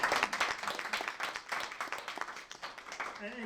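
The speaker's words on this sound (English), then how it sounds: "applause to all of you for getting this all set up" Applause for the organisers at a conference keynote, a modest scattering of hand claps that swells and fades, with a voice starting to speak near the end.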